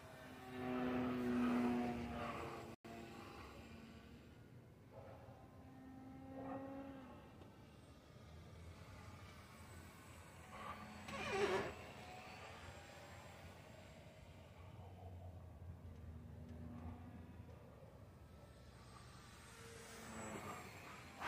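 A Carbon Cub S+ light propeller aircraft drones steadily in flight, its engine tone rising and falling as the plane maneuvers, heard from inside at moderate level.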